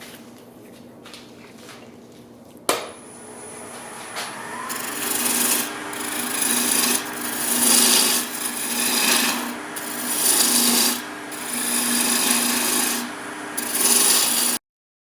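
Rough, rasping shaping of a wooden bowl gouge handle on a lathe, a steady whirring hum with scraping swells that rise and fall in long passes, close and fairly loud.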